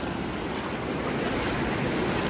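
Floodwater splashes and rushes steadily as a motorcycle crosses a flooded road, a dense, continuous wash of water noise with wind buffeting the microphone and no talk.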